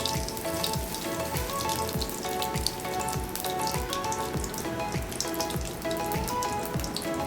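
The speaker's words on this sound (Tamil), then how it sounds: "இப்போ எண்ணெய் சூடானதும் தாளிப்பு கொடுத்துருங்க." Mustard seeds and urad dal crackle and pop in hot sesame oil as a tempering for garlic chutney, a dense, steady sizzle with rapid scattered pops throughout, close and fairly loud, with no talking.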